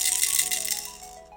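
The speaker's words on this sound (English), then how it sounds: "Oh, it's a rattle." A colourful hippo-shaped baby rattle shaken briskly, giving a bright, dense clatter of small beads that starts loud and tapers off over about a second and a half.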